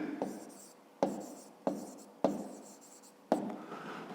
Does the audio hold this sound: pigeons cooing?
no